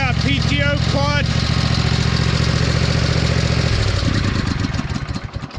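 A freshly revived engine, running without its PTO clutch fitted, idles loud and close with a steady rumbling chug. A voice is heard briefly at the start, and the engine note shifts and eases near the end.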